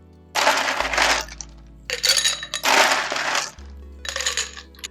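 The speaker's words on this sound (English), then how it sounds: "you're going to start by putting ice in your Collins glass" Ice cubes dropped into a tall Collins glass in several bursts, each a loud rattling clatter of cubes striking glass and each other, with brief pauses between pours.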